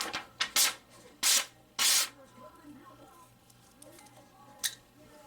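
A Blade City Viper-Tech OTF knife slices through paper in several short, scraping bursts, close and fairly loud, with quieter gaps between strokes.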